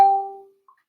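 A single bright phone notification ding rings out at once, then fades over about half a second, followed by a faint second blip, in a quiet room during a morning meditation.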